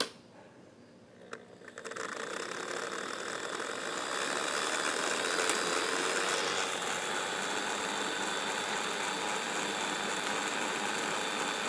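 A Mantua 0-4-0 model steam locomotive runs forward at low throttle, a steady mechanical whir and hum that starts after a brief quiet moment and holds level and close for the rest of the clip.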